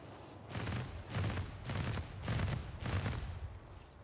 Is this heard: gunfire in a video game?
yes